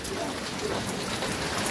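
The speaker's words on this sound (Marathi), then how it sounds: "कोकणात बघा पाऊस" Continuous monsoon rain in the Konkan countryside, a dense, even patter of drops on surfaces, steady and moderately loud with no break.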